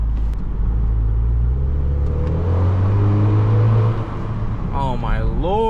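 A modified car engine revs loudly and close, a steady low roar that swells and holds before easing, with a voice speaking over its end.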